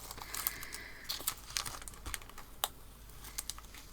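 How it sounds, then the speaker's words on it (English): Masking tape peeled off art paper, a run of dry crackling rips and crinkles with a few sharper snaps, close and fairly quiet, with no talking. "I think I'm going to take the tape off now."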